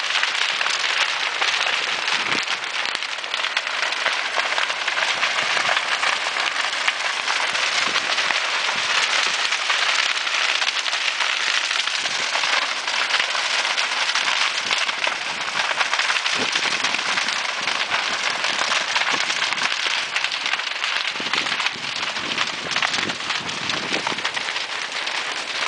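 A fire burn-off near Reefton, New Zealand crackles and hisses steadily, a dense, continuous wash of popping and snapping with no pauses or voices, loud and close throughout.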